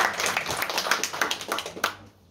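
Audience clapping at a French literary conference for young authors, a brief burst of many hands with uneven rhythm that fades out near the end.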